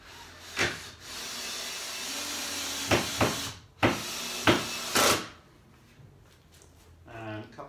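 A power driver runs screws into a wooden table leg in a shed, giving several short, close whirring bursts separated by pauses and handling noise, with a voice briefly at the end.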